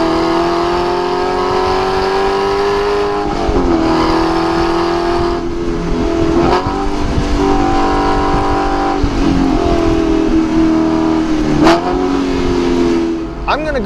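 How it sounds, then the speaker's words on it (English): A 2012 Aston Martin V8 Vantage revs hard and accelerates, its loud, close engine note rising and dropping sharply at several gear shifts over a steady, throaty drone. "this just might be one of the best sounding V8s on the road right now"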